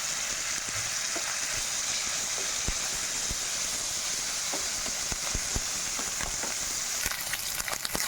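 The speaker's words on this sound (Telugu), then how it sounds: "అల్లం వెల్లుల్లి పేస్ట్ కూడా పచ్చి వాసన పోయేదాకా వేయించుకున్నాం కదా" Ginger garlic paste fries with prawns in a pan for a gongura prawn curry, making a continuous close sizzle with occasional small pops and a few stirring clinks near the end.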